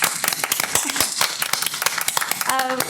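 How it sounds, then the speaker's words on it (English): An audience claps for newly published authors at a bookstore-events education session, a crowd of dense, overlapping hand claps throughout, with brief voices rising through the applause. "I want to give you all a round of applause to start this off"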